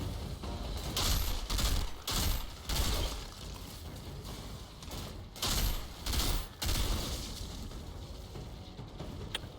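A Technomancer's deployed turret fires in Outriders, sending out bursts of rapid mechanical shots in uneven clusters, with short gaps and a rattling, clanking edge between volleys.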